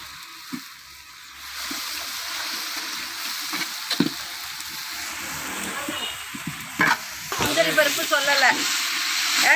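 Tomatoes sizzle and fry in a pan for ghee rice, a steady hiss with occasional spoon scrapes and stirring clatter, under faint background noise.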